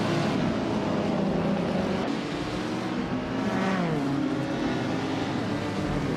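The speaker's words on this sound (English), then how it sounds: "Leading the pack is the bot Wolf of Echo in a 1951 Ferrari 212 Export" A 1951 Ferrari 212 Export race car speeds along in a racing video game, its engine roaring loudly and continuously with rising and falling revs as it drives, alone without talk.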